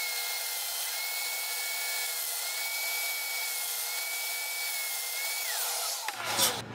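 A Festool Domino joiner cuts mortises in wood, a steady high whine of the running cutter held close for several seconds before spinning down abruptly at the end.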